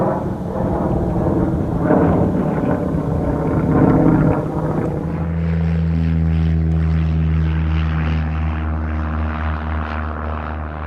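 A Mitsubishi Zero propeller fighter plane roars past loudly, settling into a steady, droning engine tone with a deep throbbing hum.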